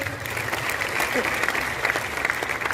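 An audience at a company gathering in Bhilwara applauds a speaker, with dense, steady clapping throughout at moderate loudness.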